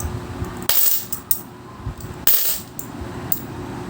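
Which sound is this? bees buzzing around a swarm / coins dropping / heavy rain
coins dropping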